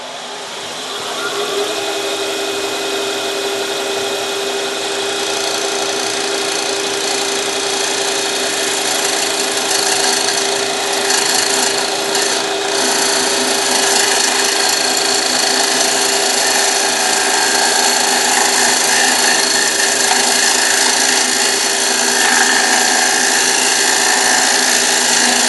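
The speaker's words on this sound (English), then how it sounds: "Make sure you have clearance before you turn the lathe on." A wood lathe spins a segmented wood piece with a loud, steady whirring hum and faint scraping texture, continuous and close throughout.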